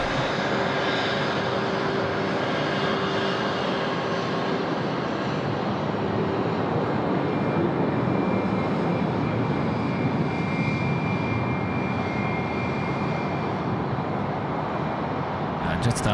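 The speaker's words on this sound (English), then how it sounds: "Righto, so we got our SQ-A380 now on a taxi." Singapore Airlines A380 taxiing at Sydney Airport, a continuous heavy engine rumble and whine at steady level across the whole stretch, with faint voices underneath.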